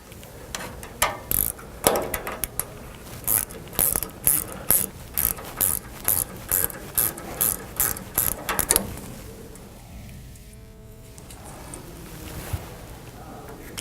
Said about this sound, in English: you want to go ahead and remove this needle plate